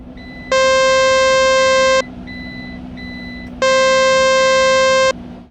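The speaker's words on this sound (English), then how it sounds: "the PCAN will give an alarm when the van is started" A PCAN system alarm sounds when the van is started: two long, loud, steady electronic beeps, each about one and a half seconds, separated by a short pause, over a low engine hum.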